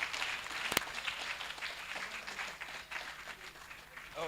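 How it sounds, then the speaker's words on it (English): An audience at a STEM event in Africa gives a fairly faint, sustained round of applause, with scattered claps and a sharp knock near the start. "please stand up for a round of applause and a huge thank you for their support."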